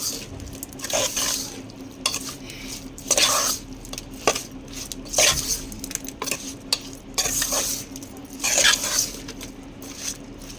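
Small fish curry being mixed with rock salt in a pan, a series of wet scraping and clinking spoon strokes against the metal over a light sizzle, uneven rhythm, close by with no speech.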